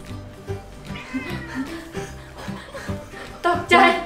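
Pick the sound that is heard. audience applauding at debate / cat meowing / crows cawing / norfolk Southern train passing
cat meowing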